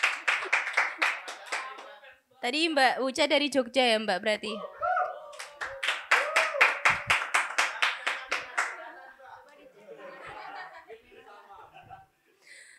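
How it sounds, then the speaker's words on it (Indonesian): Clapping and cheerful voices from an audience at an Indonesian visual ethnography talk, with talk continuing over and between the bursts of applause. "Ayo dong, tepuk tangan dong"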